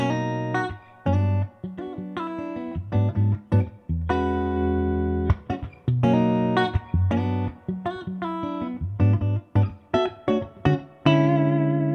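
Electric guitar playing chords and short melodic phrases through a blue Koch amp's onboard spring reverb, notes ringing and trailing off between strums, close and fairly loud.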